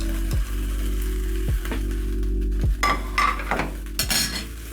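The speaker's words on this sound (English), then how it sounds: "Then I'm going to add back my ribs into the pot" Beef short ribs dropped back into a hot pot on the stove, giving a loud steady sizzle broken by several sharp clanks of a utensil against the metal.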